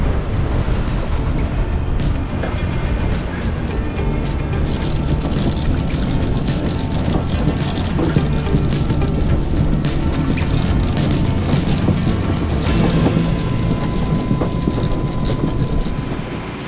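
A sailing yacht drives through waves in roughly 35 to 40 knots of wind, giving a loud, continuous roar of rushing water, spray and gusts with no letup.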